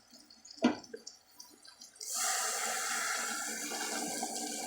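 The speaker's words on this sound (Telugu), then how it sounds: "ఇలా కారం యాడ్ చేసుకున్న తర్వాత కొంచెం వాటర్ పోసుకుందామండి" Water is poured into a pan of dondakaya masala curry after chilli powder goes in: a small clink and a few soft sounds first, then a steady pouring splash sets in halfway and continues to the end.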